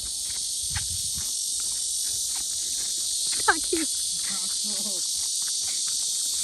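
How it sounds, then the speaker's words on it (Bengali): Crickets beside a lake keep up a continuous high, shrill chirring drone, loud and unbroken, while a person talks briefly underneath and faint footsteps sound. "কি ঝিরি পোকার ডাক"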